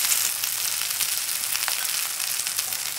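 Steady, close hiss and crackle of a seafood green onion pancake frying in hot oil as it is flipped, a continuous sizzle with no talking.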